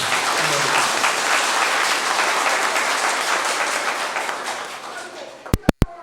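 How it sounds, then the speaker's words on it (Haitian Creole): A church ceremony crowd applauds the directors in a loud, dense burst of clapping that fades slightly toward the end, followed by a few sharp taps or knocks. "mesdames et messieurs, m'invitez à applaudir encore une fois fortement tous nos directeurs"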